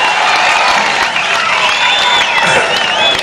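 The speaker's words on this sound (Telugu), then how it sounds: "గట్టిగా చప్పట్లు కొట్టి మీ ఆమోదం తెలియజేయాలి" A rally crowd at a political speech in Ongole claps and cheers loudly in approval, a dense continuous roar of applause with some voices mixed in.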